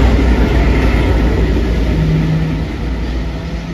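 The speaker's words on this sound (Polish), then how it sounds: "I mamy wjazd w pociągu TNK Roztocze z lokomotywą Euzor 7052 Rarytasik." A TNK Roztocze train hauled by an EU07 electric locomotive arrives at Lublin Główny station, a loud steady rumble with a brief low tone partway through that eases off toward the end.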